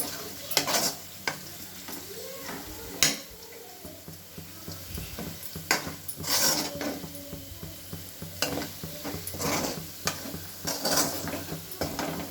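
Crushed garlic cloves go into chicken frying in a pan, with a steady sizzle under repeated sharp clinks and scrapes of a spoon stirring against the metal pan.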